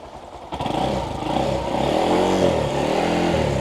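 A Honda Monkey 125 motorcycle engine runs steadily at idle close by, with a low, throbbing mechanical hum that rises slightly in level after the first half second and holds for the rest of the clip.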